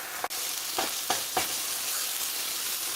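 Steak frying in a hot pan, a continuous bright sizzle with a few sharp taps and scrapes as it is pressed down, close and steady throughout.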